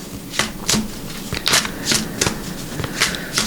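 Tarot cards are shuffled by hand, a steady series of crisp riffling swishes repeating about every half second, close and fairly loud, with no speech.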